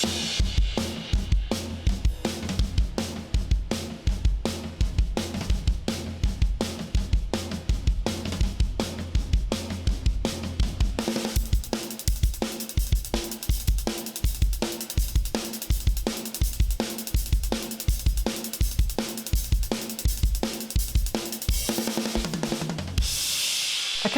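A drum kit plays the 16-bar verse groove of a song, steady kick and snare hits repeating in a tight rhythm, then the pattern fills out with cymbals partway through and ends with a crash wash, loud and close.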